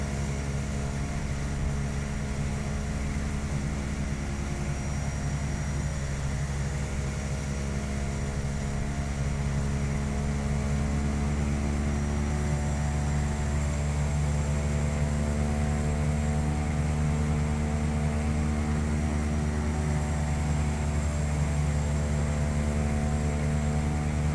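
A Carenado C208B Grand Caravan turboprop in the Prepar3D flight simulator drones with a steady, loud, unbroken engine hum and propeller whine, constant and alone throughout.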